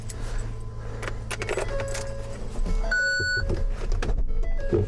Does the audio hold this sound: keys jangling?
yes